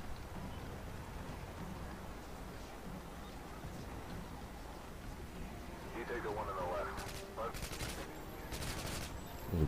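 Gunfire from the video game Modern Warfare 2 plays as a faint, distant crackle of rapid shots and bursts under a noisy background, with a short cluster of sharper shots near the end.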